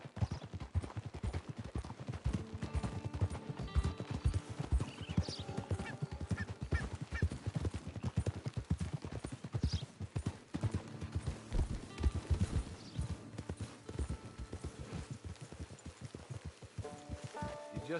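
Horse hooves clip-clopping at a steady walking rhythm, with some rattling and a whinny mixed in, moderately close with faint background noise.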